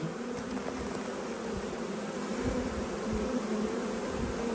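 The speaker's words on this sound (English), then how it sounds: "It's a massive swarm." A dense, continuous drone of a massive honeybee swarm buzzing together, steady and close with a low hum throughout.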